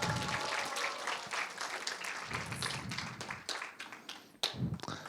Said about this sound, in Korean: 박수 박수 박수 주세요.